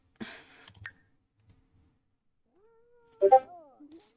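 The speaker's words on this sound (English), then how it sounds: "Be our cleaner cat. This cat is called Josie." A cat meows in The Sims 4 life-simulation game, one clear, close meow rising and falling after a few soft clicks and a stretch of near silence.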